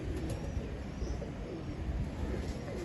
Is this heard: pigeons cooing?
yes